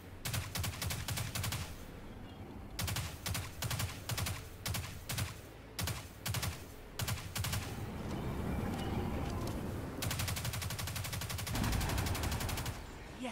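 Heavy weapon gunfire from Destiny 2, with rapid bursts of loud shots in clustered volleys, then a sustained roaring barrage toward the end over a rumbling game backdrop.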